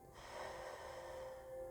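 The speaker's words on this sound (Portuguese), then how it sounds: "Fazer uma respiração assim, ó. Puxar pelo nariz, segurar um pouquinho," A single slow, deep breath drawn in through the nose as a breathing exercise, a soft sustained airy inhale heard close up and faint, with no speech.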